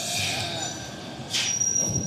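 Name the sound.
train arriving at Lucknow junction, wheels squealing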